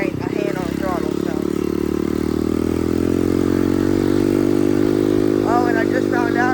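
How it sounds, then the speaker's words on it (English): A dirt bike engine runs steadily and loudly up close, its tone rising slightly as the throttle opens, while someone talks over it at the start and end. "the bike don't go if there ain't a hand on the throttle"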